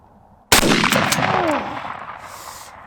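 A Winchester SXP 12 gauge pump-action waterfowl shotgun fires a single 3-inch BB shell at 10 yards, giving one loud, sharp blast that rings out and decays over about two seconds, with no talking.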